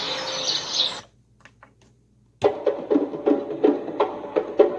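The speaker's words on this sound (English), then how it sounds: "Birds, these birds are from the same tune." Sampled birdsong from a music track: a dense burst of bright chirping, a near-silent gap, then a run of repeated chirps and calls with a rhythmic pulse, fairly close and clear.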